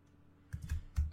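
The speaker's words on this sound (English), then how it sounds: "at the same time of watching this menu we can simply just start typing the command" A computer keyboard being typed on, entering a hashcat command in a terminal: a few close bursts of keystrokes in quick succession, alone and fairly loud.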